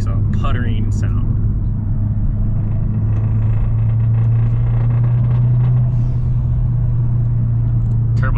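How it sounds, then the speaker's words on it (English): A Mazdaspeed 6 turbo engine, one leaking compression through its injector seals, idles loudly and steadily up close with a constant low drone, and a voice talks faintly over it. "Turbo sounds so good."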